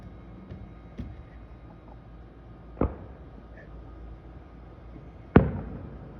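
Distant fireworks bursting on Canada Day: two or three faint pops early on, then two sharper, louder bangs separated by a few seconds, over a low steady outdoor background hum.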